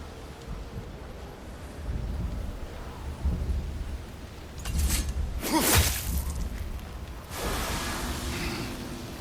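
Thunderstorm in God of War Ragnarok, with loud thunder cracks and whooshing gusts bursting in two or three heavy waves over a low rumbling, rainy background.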